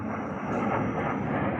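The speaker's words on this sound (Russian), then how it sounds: "Вон там, видите, там самолеты летят" A steady roar of aircraft engines drones overhead, broad and continuous with a faint high whine.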